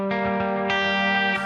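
Electric guitar played through a Sonicake Matribox II Pro multi-effects preset with compressor, magnetic echo and reverb, sustained chords ringing with a fresh strum roughly every half second and no voice over them.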